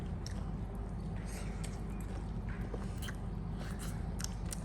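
Someone bites into and chews an apple, soft crunchy and wet mouth sounds close to the ear over a steady low background hum.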